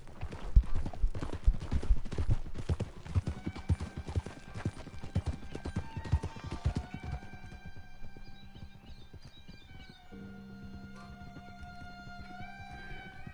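Horse hooves clip-clopping in Red Dead Redemption 2, a quick loud patter of hoofbeats that fades after several seconds into sustained tonal music notes and soft ambience.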